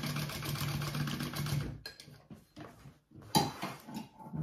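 A sewing machine stitches the lining seam of a Cielo bag, giving a fast steady whir for over a second, then short stop-start bursts of stitching close by.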